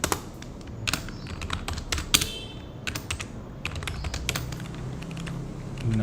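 Fingers typing HTML code on a computer keyboard, a close, uneven stream of crisp key clicks with occasional louder thumps and short pauses between bursts.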